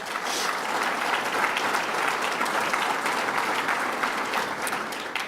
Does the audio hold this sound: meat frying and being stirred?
no